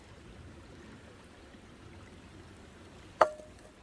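Nettle cooking water poured into a frying pan, heard as a faint, steady trickling stream with a sharp clack near the end.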